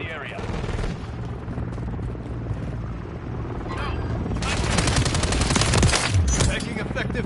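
Call of Duty: Warzone gunfire rattles in rapid bursts over a droning helicopter, the shooting growing louder and denser toward the end amid battle noise.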